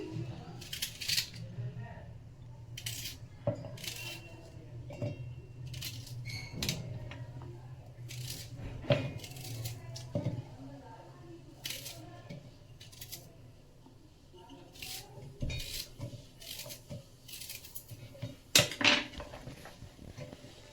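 Sharp, evenly spaced chops of a knife cutting garlic, ginger and onion on a cutting board, repeated many times at moderate volume over a low background hum.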